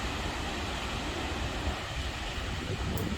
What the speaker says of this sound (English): I don't know if you guys can hear just an extreme powerful gust.